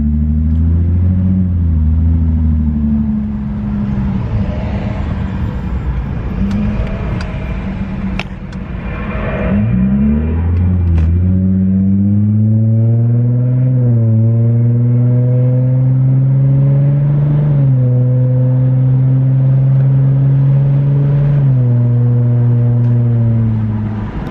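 A tuned Lexus engine revs hard from inside the cabin, climbing steadily to high RPM with a rising, sustained drone, dipping briefly around a shift before pulling up again, loud and close throughout.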